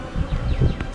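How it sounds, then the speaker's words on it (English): Honey bees fly around a strong beehive during a late-May inspection, a close, steady buzzing drone heard alone. "Ton of bees flying around still from hive number 3"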